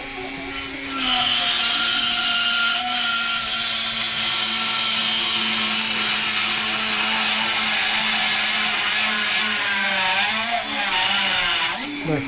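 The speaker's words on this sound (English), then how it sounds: "We're gonna grind it off." An angle grinder cuts away a metal fender flare bracket on a 5th generation Toyota 4Runner, a loud continuous high-pitched grinding whine holding steady for about eleven seconds before cutting off.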